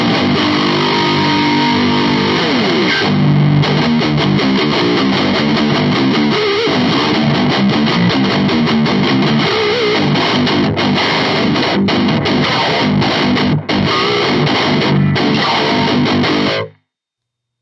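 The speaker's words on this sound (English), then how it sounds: "the guitar tones are sounding pretty friggin' rad" Heavily distorted electric guitar through a NUX Solid Studio amp simulator with home-made impulse responses, playing chunky, aggressive riffs with thick sustained tones, loud and continuous until it cuts off abruptly near the end.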